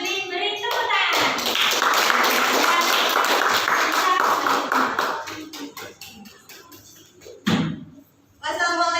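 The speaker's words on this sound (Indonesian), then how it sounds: "Kita beri tepuk tangan." A classroom group of students in Indonesia applauds after a group presentation, a dense burst of clapping that fades over several seconds before a voice speaks.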